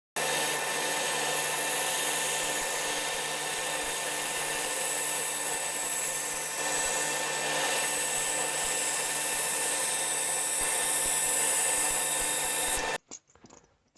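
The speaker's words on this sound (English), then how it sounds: "I can put it back through the bandsaw and just chop a bit more of this out" Bandsaw slicing through a wooden base, a continuous loud whining drone with a faint rasping edge that runs steadily for about thirteen seconds before cutting off abruptly.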